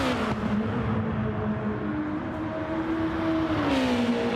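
A GT4 race car engine in a sim racing video game, a steady mid-pitched drone that rises and shifts as it revs, heard alone at moderate level without talk.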